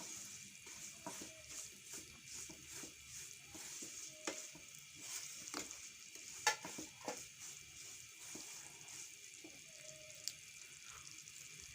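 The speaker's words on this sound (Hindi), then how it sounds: "हम सूजी डाल दी और इसे अच्छे से भूनेंगे हम इसमें अपने घी में" Semolina being roasted in ghee in a pan for halwa, a soft, steady sizzle with occasional stirring scrapes and small clinks, close and fairly quiet throughout, with no talking over it.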